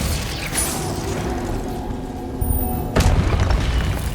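The Glacius spell is cast in the video game Hogwarts Legacy, a deep booming impact with a sharp crack near the end, loud and close over a low rumbling game background.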